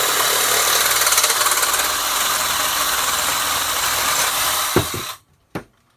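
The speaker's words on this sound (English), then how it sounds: "I like using the Sawzall." A Sawzall reciprocating saw cuts during a utility sink installation, giving a loud, steady buzzing rattle that stops abruptly near the end, followed by a couple of short knocks.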